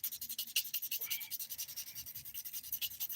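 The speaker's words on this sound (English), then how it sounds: "I'm using the 180 grit side of this file to bring down that bulk" A fingernail is filed by hand with the 180 grit side of a nail file, producing close, quiet, rhythmic scratchy rasping strokes in a steady back-and-forth pattern.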